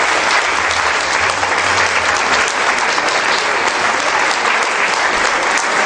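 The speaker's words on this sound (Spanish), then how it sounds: "Le vamos a dar un fuerte aplauso" An audience claps loudly and steadily to welcome a speaker at a church talk, a dense, continuous applause with no voices over it.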